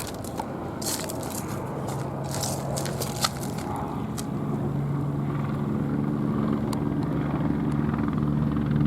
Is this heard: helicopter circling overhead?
yes